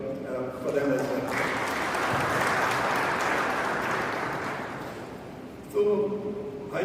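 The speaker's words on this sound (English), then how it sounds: "we should also clap for them as well" Audience applause at a remittance summit in Rome swells after someone speaks, holding as a dense wash of clapping before fading, with his voice returning at the close.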